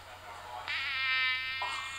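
A recorded mosquito whines with a thin, high buzz that swells louder partway through and shifts pitch near the end, close and steady with no voices.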